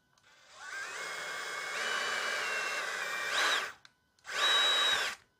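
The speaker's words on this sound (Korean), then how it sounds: "저는 요거 뗄 때 그냥 드릴로" A power drill runs at length to back screws out of a battery, its steady whine rising in pitch, then stops and gives a second short burst, loud and close, with no talk.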